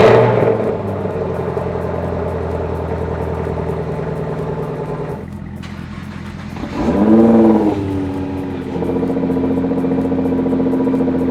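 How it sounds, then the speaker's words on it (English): Cold start of a 2019 Chevrolet Camaro ZL1 1LE V8: a steady, loud, rumbling idle with a short rev flare partway through, then a settled high idle, with no voices. "let's go ahead and get a cold start of each"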